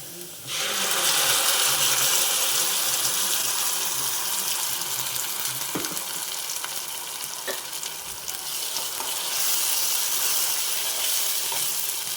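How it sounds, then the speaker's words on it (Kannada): Ground chutney hitting hot tempering in a pan, a loud sudden sizzle that settles into a steady close crackling hiss with occasional stirring scrapes, no talking. "ಇವಾಗ ನಾನು ರುಬ್ಬಿಟ್ಕೊಂಡಿದ್ನಲ್ಲ ಆ ಚಟ್ನಿನ ಈಗ ಒಗ್ಗರಣೆಗೆ ಹಾಕ್ತಾಯಿದ್ದೀನಿ"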